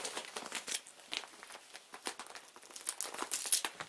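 Crinkly plastic wrapping on an Ivanovo textile bedding set rustles and crackles in dense, irregular bursts at close range, quiet overall with no talking.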